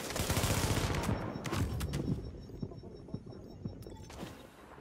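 Rapid gunfire from the Rogue Company video game, a dense burst of shots that thins into scattered single cracks and fades toward the end.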